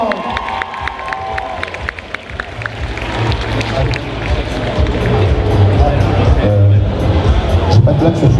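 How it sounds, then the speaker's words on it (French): A crowd of spectators at a cosplay contest cheers, claps and shouts for a Chewbacca cosplayer, a broad, dense roar that builds and holds steady, with voices mixed in. "On peut faire un applaudissement s'il vous plaît pour Chewbacca de Star"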